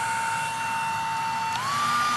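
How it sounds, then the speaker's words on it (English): Hair dryer on a low setting aimed at an iPod Mini end cap to soften its glue, a steady close whirring drone with a thin tone that rises slightly near the end. "And what you need is the hairdryer."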